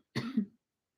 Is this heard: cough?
yes